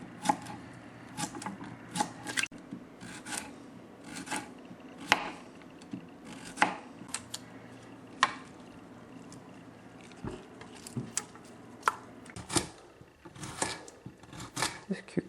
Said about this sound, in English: This cucumber is a little bit big. Have to cut it very, very thin.